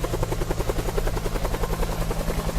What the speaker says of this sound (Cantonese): 阿蘇火山觀光直升機啊！